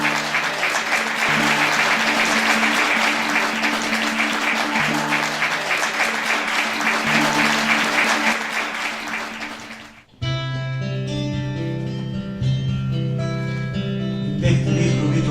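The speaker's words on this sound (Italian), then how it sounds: "Applauso." Audience applause after a reading of a Greek tragedy in Sicilian, loud and sustained clapping for about ten seconds that then cuts abruptly to music.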